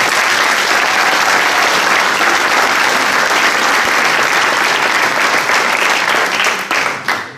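A hall audience at a municipal council meeting gives loud, sustained applause for the outgoing councillors, a dense wash of clapping that lasts about seven seconds before trailing off into a few final claps.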